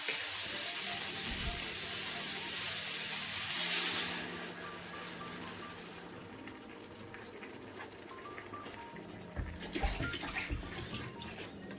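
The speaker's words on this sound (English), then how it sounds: "I'm going to add my stock." Beef stock poured into a hot pan for a beef fricassée, a loud, steady watery hiss and sizzle that surges early, then settles into a continuous bubbling fry with a burst near the end.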